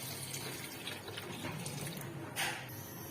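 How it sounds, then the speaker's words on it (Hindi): Water poured into a kadhai holding cut raw mangoes for mango jam, a steady soft splashing stream that swells briefly near the end. "इसमें 2 गिलास हम पानी ऐड कर देंगे।"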